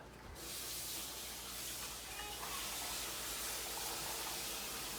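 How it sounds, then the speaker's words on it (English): Running water hisses over cut nopales cactus pads and summer squash as they are rinsed, a continuous, soft, even spray close by with no break and no talking. "So I'm going to rinse these off a little bit."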